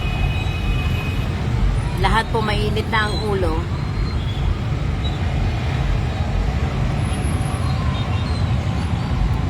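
Heavy, slow road traffic on Marcos Highway toward Tanay near Antipolo, a steady low rumble of engines across the whole stretch, with a person speaking briefly over it partway through.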